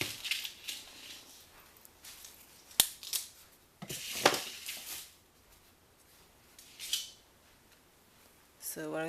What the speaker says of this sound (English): This is the chain, so I'm gonna cut 7.